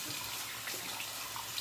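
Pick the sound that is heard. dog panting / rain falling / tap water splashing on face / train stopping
tap water splashing on face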